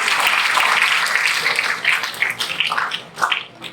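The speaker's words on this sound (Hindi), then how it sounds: "इनके लिए जोरदार तालियां बजाएं" Clapping from a seminar audience, loud and dense at first, then thinning into scattered claps and fading toward the end.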